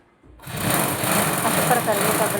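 A sewing machine runs steadily, stitching a traditional quilt made from two bedsheets with sponge padding. It starts abruptly and keeps a loud, continuous mechanical whir close by.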